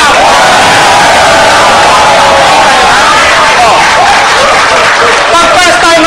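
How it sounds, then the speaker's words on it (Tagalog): A marketing seminar crowd claps together on cue, very loud and dense, with whoops and shouting voices mixed into the continuous roar of hands. "Sabay-sabay, ha? 1, 2, palakpak!"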